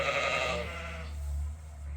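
Sheep and lambs bleat in a farm pen, one loud, close, wavering bleat filling the first second before fading into a quieter low murmur.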